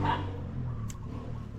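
A dog on a small Philippine island gives a short burst of barking right at the start, fairly close and loud, before a steady low background hum takes over for the rest of the moment.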